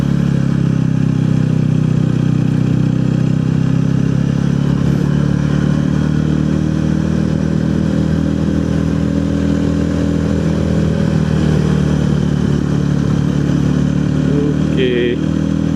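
A motorcycle engine pulls steadily uphill in third gear toward Puncak Meranti on a touring ride, a loud, constant mid-pitched drone with wind rumble and no clear revving changes throughout.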